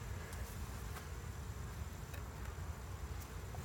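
Honey bees agitated at a hive entrance after a mouse guard is slipped on, giving a steady, dense insect buzz that stays even throughout with no talking.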